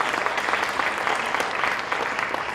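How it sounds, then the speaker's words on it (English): Audience at a women entrepreneurs' conference applauding for a government minister, steady dense clapping from a large crowd filling the room without pause. "Let's give a big round of applause to her."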